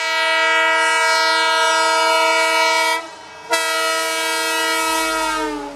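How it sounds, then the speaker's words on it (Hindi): A loud, sustained train horn recorded from about one metre away blasts steadily, with a brief dip in the middle before the harmonic tone resumes at full strength. "ये साउंड है ट्रेन हॉर्न का"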